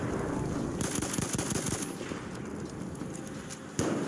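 A medic's gun in Battlefield 1 firing sustained rapid automatic bursts, loud and close, the shots running together over game-world rumble before tapering off, with a sharp single report at the end and no talking.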